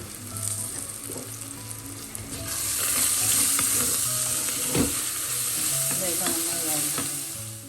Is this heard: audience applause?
no